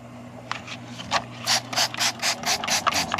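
Green Clean cleaner sprayed from a trigger bottle onto an HVAC unit with mold, giving a run of short, bright spritzes in a steady rhythm, close and fairly loud, with no talking.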